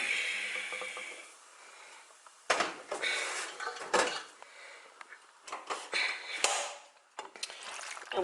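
Cooked noodles are stirred and tossed in the same oiled pot they boiled in, giving irregular scraping and clinking bursts of utensil against metal, fairly close and separated by short quiet gaps.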